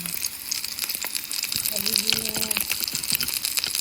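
Sugary sausage sizzles and sputters as it burns in a hot pan, a steady close frying hiss with crackles throughout, while a voice talks over it.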